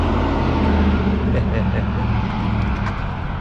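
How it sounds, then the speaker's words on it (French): A V8 engine rumbles loudly and steadily nearby on a Montréal street, a deep continuous drone with a voice talking over it. "je vais jamais me tanner de son d'un V8"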